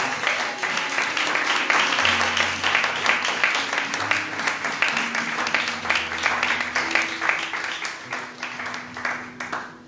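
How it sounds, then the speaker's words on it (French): Congregation applauding in a church service, steady clapping from a crowd that holds for the whole stretch, with a low sustained musical tone and some voices underneath. "Acclamons notre Seigneur Jésus."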